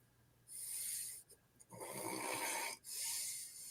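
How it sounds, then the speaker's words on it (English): Slow, heavy snoring from an unconscious man, two long rasping breaths with a brief gap between them, close and fairly loud against a quiet background. "He's snoring. That means he's sleeping"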